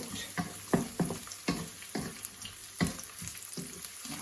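Carrots stir-fried in a pan for glass noodles, a soft continuous sizzle punctuated by about eight quick scraping tosses in an uneven rhythm, close but fairly quiet.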